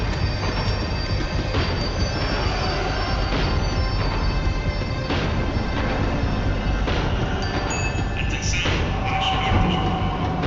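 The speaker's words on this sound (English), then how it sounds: "The tram was slowing down, and I'd only just gotten on board" A tram slowing down on rails in Max Payne 3, a loud continuous rumble with metallic wheel squeal and occasional thumps filling the whole stretch.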